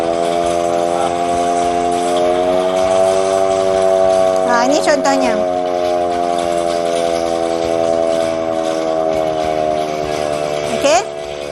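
Long, continuous emergency warning siren sounding as a steady droning wail that holds nearly unbroken for over ten seconds, with brief pitch sweeps partway through and a short spoken phrase near the start.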